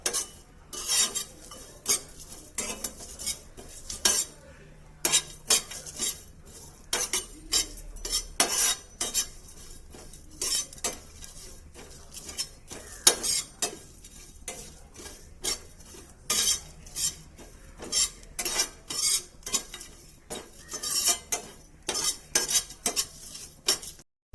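Poppy seeds and dried coconut are dry-roasted in a pan alongside a few peppercorns and cloves, with a steady run of sharp metallic scrapes and clinks from a spoon stirring against the pan, close and continuous with no talking.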